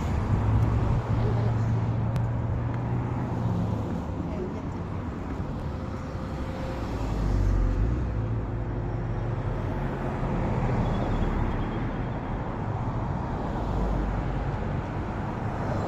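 Steady road traffic flowing along a busy street in hot weather in Kuwait, a continuous low rumble of passing vehicles with slight swells as cars go by, heard from the roadside with no voices.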